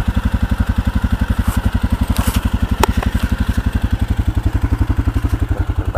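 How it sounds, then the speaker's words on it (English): A Suzuki King Quad 700 four-wheeler ATV, fitted with a plow and winch, idles close by on an old road with a steady, rapid thumping engine pulse and a light mechanical clatter. "for the first time you get to hear and see my four-wheeler"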